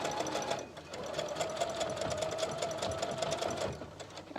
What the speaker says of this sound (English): Tuck your ribbon underneath the fringe and then finish off your stitching.